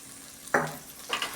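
A spatula scrapes and stirs garlic, dried chillies, salt and turmeric in a frying pan of sizzling oil, making a few soft, close strokes over a steady low sizzle.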